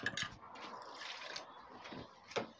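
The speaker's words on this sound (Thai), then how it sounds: "เอาน้ำมาล้างคกก่อน" Water poured into a stone mortar and pestle to rinse them gives faint, close splashes and trickles with a few sharp knocks of the pestle against the mortar, quiet and with no talk.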